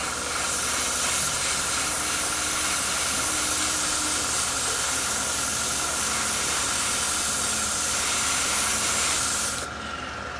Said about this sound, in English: some into the airbrush, thin it 50-50, and we'll see how nicely it applies